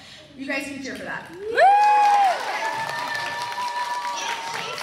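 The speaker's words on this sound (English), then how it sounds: "You guys can cheer for that." Children at a Battle of the Books school quiz cheer for their team: a rising whoop that swells loudly for a moment, then settles into a lighter murmur of voices.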